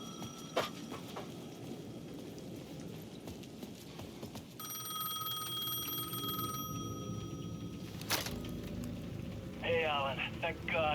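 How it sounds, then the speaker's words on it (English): A payphone rings in the game Alan Wake 2, a bright repeating electronic trill heard in a steady burst and then again in short pulses near the end, over a low ambient drone. "The payphone at the edge of the plaza was ringing again."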